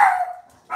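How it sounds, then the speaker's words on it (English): A single dog bark rings out loud and close, a sharp yelp with a falling pitch, followed by a short second yip after a brief pause, heard outdoors during bass lure fishing. "Probably just hear the dog a little bit."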